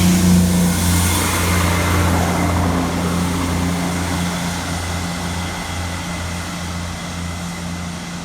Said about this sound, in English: We've got a class 158 leaving platform 3 going up to Lincoln Central from Loughborough platform 3.